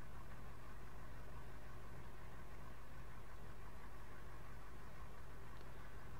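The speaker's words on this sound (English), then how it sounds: "Not sure if the truck's revs have gone up" A truck engine idles in Farming Simulator 2013 with a steady, even low rumble and hum, constant in level and heard alone without talk.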